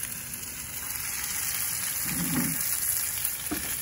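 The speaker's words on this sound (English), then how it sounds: "I'm just going to take these carefully, place them right inside the hot oil" Ahi tuna steaks set into a hot oiled pan on a Big Green Egg, a steady fairly soft sizzle with a brief thump and a swell of crackle as they land, plus a faint hum.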